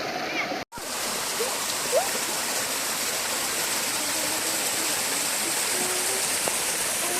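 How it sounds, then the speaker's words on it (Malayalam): A shallow stream in rain-soaked Pathanamthitta countryside flows with a steady, close rushing and splashing that fills the whole stretch, after a brief dropout near the start. "അപ്പം വളരെ ആഴം കുറഞ്ഞ അരുവിയാണ്."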